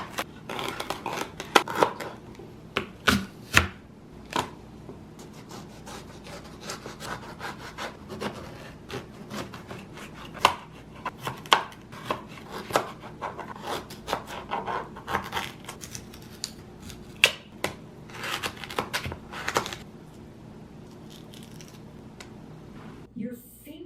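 A quiet juicer grinds apples, lemons, orange, turmeric, golden beet and celery, producing continuous rasping, crunching and scraping bursts at moderate volume over a soft background hum.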